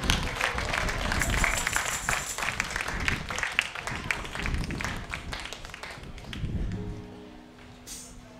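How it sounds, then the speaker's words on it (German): A concert audience claps for a viola player, the applause loud at first and then thinning and fading out toward the end, with some stray voices and a few instrument notes emerging. "da möchte ich bitte einen tosenden Applaus an der Bratsche"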